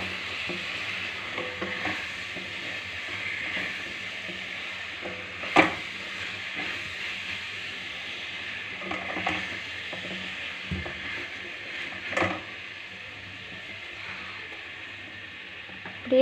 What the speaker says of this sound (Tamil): உருளைக்கிழங்கு, முருங்கைக்காய் எல்லாமே போட்டு நல்லா கிளறி விட்டுக்கோங்க.